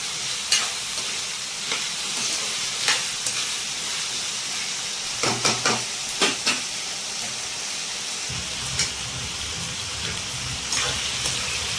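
Diced potatoes sizzle steadily in hot oil in a pan while a spoon stirs them, with scraping clinks and bursts of crackle over a constant frying hiss.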